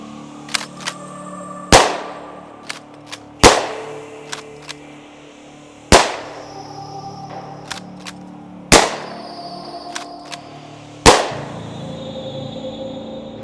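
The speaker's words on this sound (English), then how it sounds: "The UTS-15 is a bullpup-style pump-action shotgun born from a two-country collaboration between the U.S." A UTAS UTS-15 bullpup pump-action shotgun fires five loud, sharp blasts spaced a couple of seconds apart, with metallic clacks of the pump action cycling between shots.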